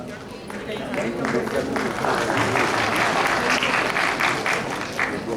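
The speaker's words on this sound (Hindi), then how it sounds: "ये आपकी तालियां मुझे थोड़ी ताकत दे देती है" Indoor audience at a diet and healing talk breaking into sustained applause, a dense wash of clapping that swells and holds steady for several seconds, fairly loud and close.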